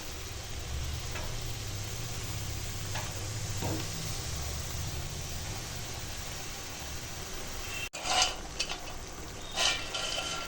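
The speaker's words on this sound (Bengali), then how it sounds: "এখন দিয়ে দেব নোটে শাক।" Amaranth greens (note shak) hiss steadily as they hit a hot pan, followed by a few clattering utensil knocks and scrapes toward the end.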